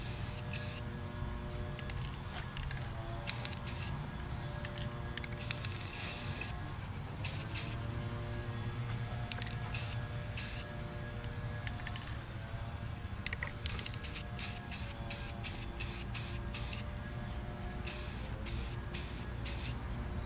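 Rust-Oleum Wrinkle Reaction spray paint hisses from a rattle can onto a fender in a light tack coat, a steady hiss running for about twenty seconds with short bursts and pauses between passes.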